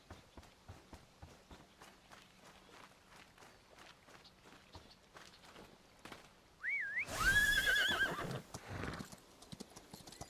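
In the video game Chrono Odyssey, hooves clip-clop in a steady rhythm, then a horse lets out a loud whinny over a burst of rushing noise, with the hoofbeats continuing.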